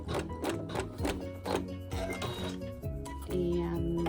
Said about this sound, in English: But we'll let the machine sew a seam.